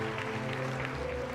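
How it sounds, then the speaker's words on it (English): Audience applause at a Gran Turismo World Series esports trophy presentation in Montreal, Canada, a steady, dense wash of clapping filling the hall without pause. "to a rapturous applause here in Canada"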